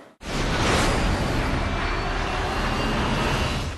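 Airplane roaring overhead in a Ram truck commercial, a loud continuous broadband rush that swells in abruptly and holds steady with no talk.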